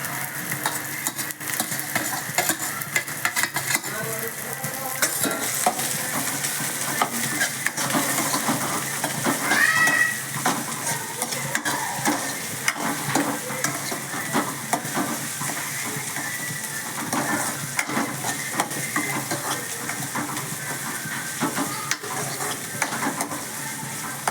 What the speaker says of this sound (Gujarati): પછી આપણે ગાજર નાખશું અને પછી આપણે કોબી પણ સાથે બધું નાખી દઈશું